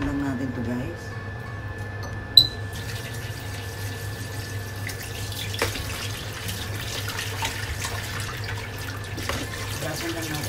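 Tap water runs steadily into a sink as soaked galunggong fish are rinsed, a low continuous splash with a sharp knock partway through and a voice speaking over it.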